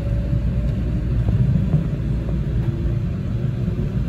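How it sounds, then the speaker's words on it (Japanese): Steady low rumble of a JR Tokaido Line Shinkaisoku rapid train bound for Toyohashi running just after leaving Nagoya, a continuous close interior drone with faint rail clicks and no talk. "9時16分発の新快速豊橋行きは定刻通り名古屋を発車していきました。"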